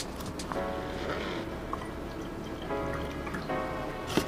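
Captain liquor poured from a bottle into a glass for a mixed drink, heard as a short trickling, gurgling stream with glassy clinks and drips, close and fairly quiet, no voices.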